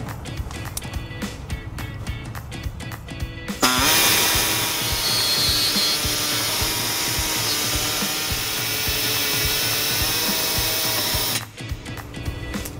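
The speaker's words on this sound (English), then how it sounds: "to make a small notch in our access hole, I'm gonna be using an air saw" An air saw cutting a small notch in the metal around an access hole during a 2016 Ford Escape trailer hitch installation: a loud, steady whining buzz runs for about eight seconds, with quieter clicks and handling noises before and after.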